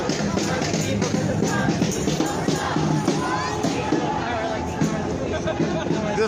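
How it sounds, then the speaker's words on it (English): Very large crowd walking through downtown Minneapolis streets celebrating the conviction of Derek Chauvin: a loud, continuous outdoor hubbub of voices, shouts and scattered cheers. "This crowd is walking through the streets of downtown Minneapolis as the community celebrates the conviction of Derek Chauvin."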